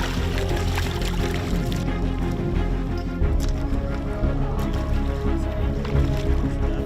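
Motorboat on the sea off Seram Barat, Indonesia, carrying water jerry cans: a steady close engine drone mixed with water splashing and sloshing against the hull, continuous throughout.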